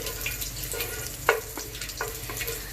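Whole bay leaves, mace, cloves and cardamom stirred in a hot oiled pan for chicken curry, a close steady sizzle broken by a few sharp scraping clicks of the spoon.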